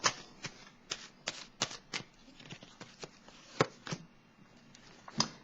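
Tarot cards shuffled and handled in a card reading, giving a run of crisp, close riffling snaps and soft slides at an irregular pace, with no voices.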